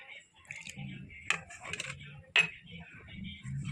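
A spoon clinks against a bowl while Dora cake batter is stirred with milk, with a few sharp taps and a soft scraping in between.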